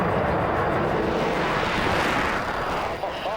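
A Vulcan military bomber roars past at very close range, a broad, heavy rumble that swells and fades unevenly across the whole moment, with some speech mixed in.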